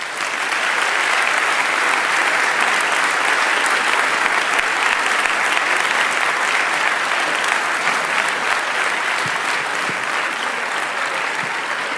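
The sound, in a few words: audience applause for guest going on stage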